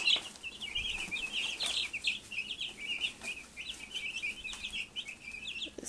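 Twelve-day-old meat chicks peep continuously in a brooder, a dense chorus of high, rapid chirps layered throughout with no talking.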